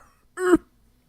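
A voice imitates a smoker's cough with one short, rough throat-clearing hack. It is brief, close and stands alone against near silence.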